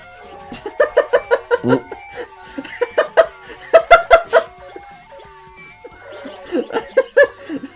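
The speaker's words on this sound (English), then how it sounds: "those geese are rocking out" Geese in the video game We Love Katamari honk in bouncy, rhythmic bursts, with clustered squawking phrases rising and pausing over a musical background.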